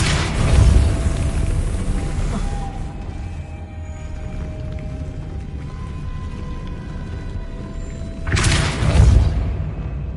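Two deep booming blasts of the Depulso force spell in a Hogwarts wizarding video game, one at the start and another near the end, with a quieter hum of game ambience between them and no talk.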